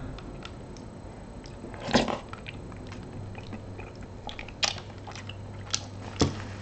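Someone eating Beefaroni with a plastic spoon at close range: quiet wet chewing with scattered sharp clicks and taps of the spoon, a few louder bites standing out, and no talking.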